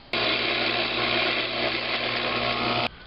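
A power drill with a 3/4-inch bit boring into wood for a wooden camera tripod whirs steadily at constant speed for nearly three seconds, starting and stopping abruptly, close and loud.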